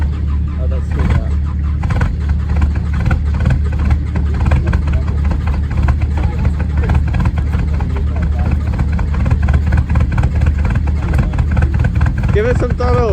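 A diesel off-road vehicle with aging glow plugs runs on a state forest track, its engine giving a loud, close, continuous low rumble throughout, with people talking over it.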